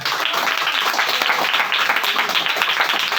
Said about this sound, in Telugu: సంవత్సరం తిరిగే లోపు గట్టిగా చప్పట్లు కొడదామా?